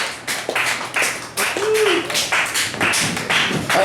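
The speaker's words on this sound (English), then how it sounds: "make some noise for Ryan Cordell" Club audience applauding and clapping for a stand-up comedian, dense scattered claps close by, steady and loud for the full stretch with a few sharper taps.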